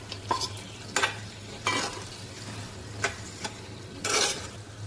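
Prawns drop into hot oil in a home kitchen pan, giving several short, sharp sizzling bursts with steady frying underneath and occasional spoon scrapes; no talking.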